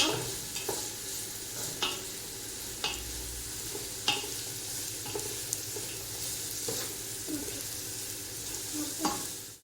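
Chicken fried rice stirred with salt in a hot pan, a continuous loud sizzle with repeated spatula scrapes and taps every second or so.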